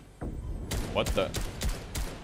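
Gunfire in the video game Fortnite, Chapter 2, sounding as several sharp broadband shots in a quick irregular burst over the second half, close and fairly loud, with a voice speaking faintly underneath.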